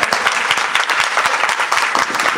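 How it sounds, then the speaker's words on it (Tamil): A television studio audience claps steadily through a donation ceremony on a singing show, with dense, continuous applause and no talk over it. "நல்ல கைத்தட்டுங்க."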